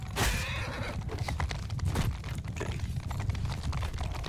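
Horses galloping in the video game Mount & Blade 2: Bannerlord, a steady stream of hoofbeats and clatter with a couple of whinnies, loud and continuous against battle ambience, with no talk.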